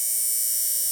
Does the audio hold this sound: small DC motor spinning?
yes